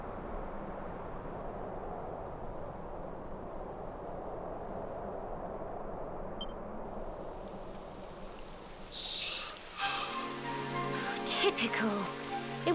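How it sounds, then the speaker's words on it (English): Rain begins in the video game Dragon Quest XI, a soft continuous patter of rain on surfaces that builds and thickens toward the end, with a low rumble beneath. "It would have to go and start raining, wouldn't it?"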